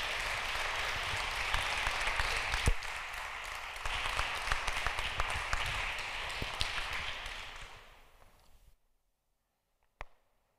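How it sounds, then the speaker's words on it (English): Audience round of applause after a keynote talk on youth faith formation, sustained clapping for about eight seconds that fades out, followed by silence and one isolated tap. "Round of applause for Josh, please"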